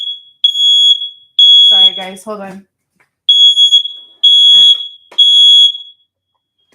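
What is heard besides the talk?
fire alarm going off indoors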